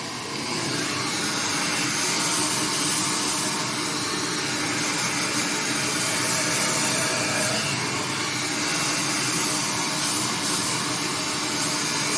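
A hair dryer blowing hair dry during a home styling session, running as a continuous loud, steady roar with a slight wavering as it moves, no talking.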